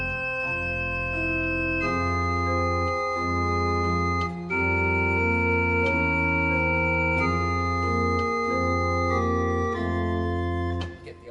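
A church pipe organ at Nazareth Lutheran Church in South Brisbane plays a melody on the Brustwerk cornet over an 8-foot principal on the Hauptwerk. Rich, sustained chords move steadily and loudly for the whole passage with no talk.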